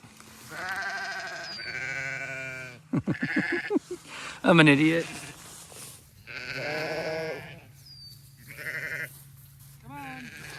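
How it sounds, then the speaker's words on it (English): Sheep on a farm being moved in the rain bleat several times, loud and close. Someone talks between and over the calls. "Are you sure you're ready to move, sheep?"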